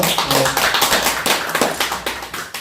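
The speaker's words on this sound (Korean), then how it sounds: "우리 다시 한번 격려 박수 한번 해주죠." A church congregation giving a short burst of applause, quick overlapping claps close by for a couple of seconds, with no talking.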